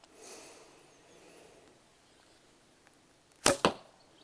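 A single arrow shot from a Krym Monolith Tatar bow gives two sharp, loud, close cracks in quick succession, the release snap followed by the impact, after a few seconds of quiet outdoor hiss.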